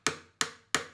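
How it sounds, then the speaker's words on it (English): Three sharp, evenly spaced taps on the wooden body of an acoustic guitar, each a crisp knock with a short decay, close and alone. "even just tapping it out on your guitars."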